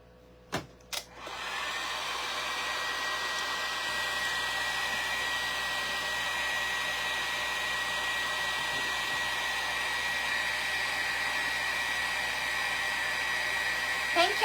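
A hair dryer blows on wall decor, starting after two quick clicks and then running as a loud, steady whirring rush that continues without a break, close by.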